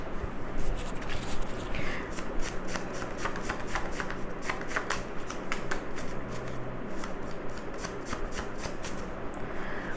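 Handwritten tarot cards being shuffled steadily for the full stretch, a continuous close rustle of riffling card stock with rapid papery flicks and no voices.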